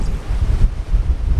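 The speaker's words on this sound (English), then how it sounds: "You can probably hear in the background. We're right looking on the ocean." Ocean waves at a wild free campsite on an Australian coastal road trip, a low, rolling surf roar mixed with gusty wind buffeting the microphone, steady and fairly loud throughout.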